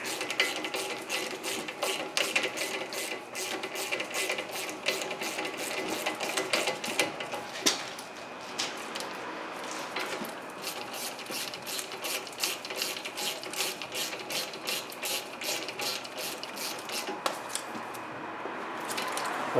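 Front brake bolts on a 2007-2014 Ford Edge are turned in with a ratchet, a steady run of close, rapid clicks that carries on for about twenty seconds with no talking.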